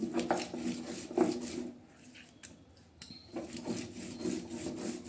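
Roasted green chillies with garlic being ground into a paste on a traditional stone slab, giving rhythmic rubbing and scraping strokes with a brief quieter pause midway.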